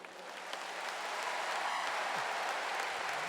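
A congregation at Holy Mass breaks into applause, the clapping swelling from a soft start into a steady, fairly distant wash of hands.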